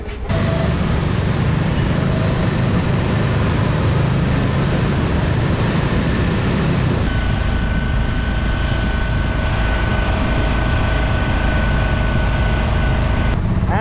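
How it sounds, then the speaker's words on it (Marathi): An auto rickshaw rides through city traffic toward a railway station, its loud, steady engine drone and road rumble filling the whole stretch, with faint tonal hoots early on. "आता आम्ही रिक्षात बसून निघालो आहोत स्टेशनला जायला."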